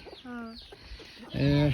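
Local free-range chickens on a small poultry farm give two clear clucking calls, a softer one and then a louder, longer one, with light background noise.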